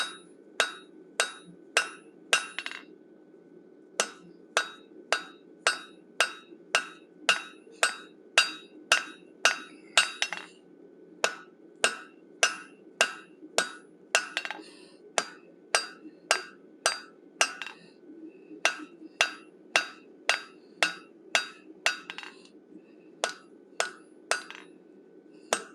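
Hand hammer blows ring out on a steel wolf head being forged on an anvil, sharp metallic strikes in quick regular bursts with short pauses between runs, close and loud.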